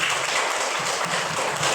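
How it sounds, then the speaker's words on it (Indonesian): Pupils in a classroom clap together in a steady, even wash of applause lasting a couple of seconds, fairly close and without talk. "Tepuk tangan untuk supaya kita semangat ya."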